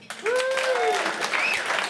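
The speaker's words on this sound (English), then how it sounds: "Round of applause if you did it on purpose." Comedy club audience giving a short burst of applause, a brief wash of clapping under loud cheering and whooping voices.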